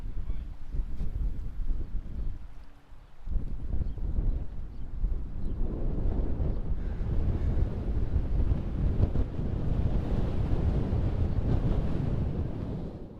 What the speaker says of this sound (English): Oh boy, the wind is really picking up.